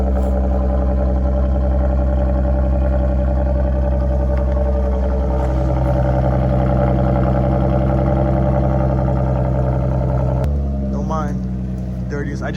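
A supercharged Audi engine idles steadily with a modified exhaust, a loud, deep continuous drone up close that shifts slightly near the end.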